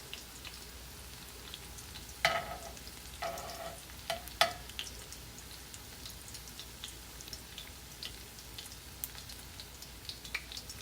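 Hoe cakes fry quietly in a pan with a soft, steady sizzle, broken by a few brief scrapes and clicks near the start before settling back to a faint, even crackle.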